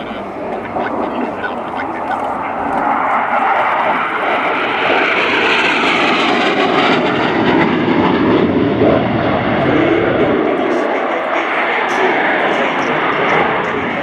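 A Spanish EAV-8B Harrier II jet roars past during a flying display at RIAT 2024, a loud, sustained broadband engine rumble that swells and drifts across the whole stretch while a commentator talks over it.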